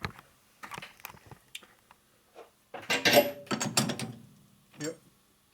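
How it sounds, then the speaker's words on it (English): A torque wrench checks a stud bolt on a 2020 M8 motorcycle engine during rocker arm stand repair, giving close, sharp metallic clicks and ratcheting in short bursts separated by brief quiet gaps. "I'm going to go ahead and check the torque on that to make sure it hasn't moved any."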